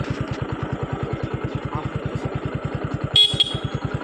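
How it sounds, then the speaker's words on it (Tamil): A TVS XL 100 moped (2019 model) idles with a steady, rapid putter, and a short, bright horn honk sounds near the end, loud and close. "ஹாரன் அடிக்கிறேன் பாருங்கள்."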